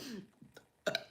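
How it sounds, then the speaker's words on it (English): A short, loud burp close to the microphone, preceded by a few softer throaty sounds and breaths from the same person. "maybe inappropriate as well, like me burping on video"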